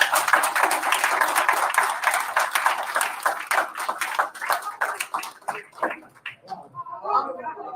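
Applause breaks out for a woman at a symposium on Cuban women political prisoners, dense clapping at first that thins into scattered individual claps, followed by a murmur of talk.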